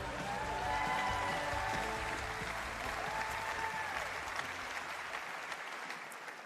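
An audience at an awards ceremony applauds continuously, a dense wash of many hands clapping at a moderate distance, tapering slightly toward the end.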